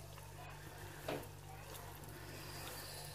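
Semolina (suji) roasting in ghee in a pan for panjiri gives a faint, steady sizzle, with one brief stirring scrape near the middle over a low constant hum.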